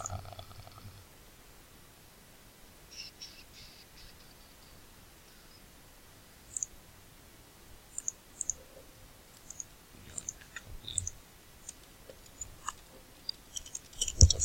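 Quiet, scattered keyboard taps and clicks that come in short irregular bursts and grow busier toward the end, set against a faint steady hiss.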